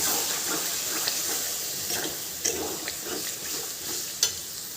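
Soybean chunks for vegetarian chilli soybean are stirred in a hot pan, with a steady close sizzle and hiss punctuated by a few soft scrapes of the spoon.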